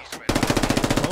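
Gunfire rings out in the military shooter video game SquadOps. After a brief lead-in sound, a rapid burst of automatic shots fires at an even rhythm, close and loud, about a dozen rounds in one second.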